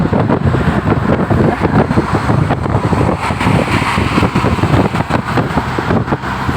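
Steady rumbling road noise from inside a moving car, with constant engine drone and wind buffeting, loud and unbroken throughout.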